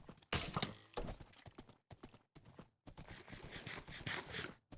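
A horse in the Minecraft video game makes a series of choppy game-audio bursts of clip-clop and whinny-like noise, broken by short gaps and moderately loud, with no talking.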